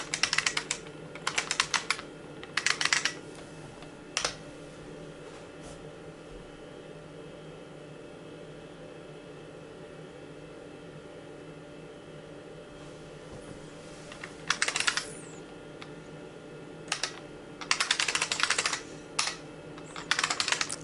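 Bursts of quick key clatter on a computer keyboard while connecting to a server from a 16-bit x86 Linux machine, separated by long stretches of steady fan hum, close and moderately quiet.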